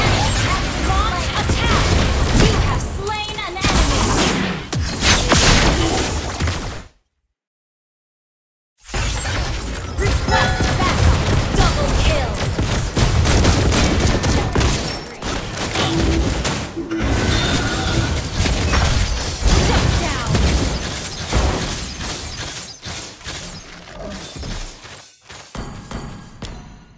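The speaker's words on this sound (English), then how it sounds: "Your team destroyed a turret." A turret is destroyed in Mobile Legends, with loud shattering crashes and booms over busy battle effects, interrupted by a brief silence and mixed with in-game announcer voices.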